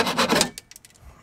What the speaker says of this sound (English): take any kind of blade, like a saw or a Dremel, and just cut this little tab off